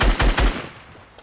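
A light machine gun in a video game fires a quick burst of three loud, close shots, followed by a fading echo tail.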